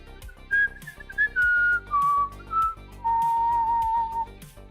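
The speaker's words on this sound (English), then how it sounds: "Yeah, I can whistle." A person whistles a slow melody of sustained notes, clear and close, with short gaps between phrases over faint background music.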